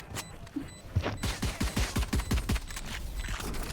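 Ghost pistol gunfire in the Valorant video game: a quick string of about nine sharp, punchy shots fired in a steady rhythm, with a few faint clicks before and light game noise after.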